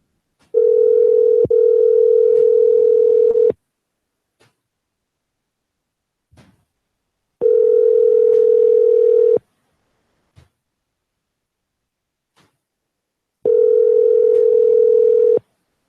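A telephone line tone during dialing, three loud steady tone bursts of roughly two to three seconds each separated by silent gaps, with faint clicks in between and no talking.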